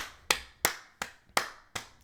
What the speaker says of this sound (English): But let's all clap for Bates